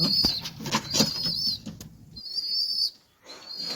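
A pigeon in a home flaps its wings in quick, close bursts with soft rustling, while a high thin whistle-like tone repeats faintly in the background.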